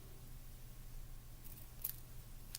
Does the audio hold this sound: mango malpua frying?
no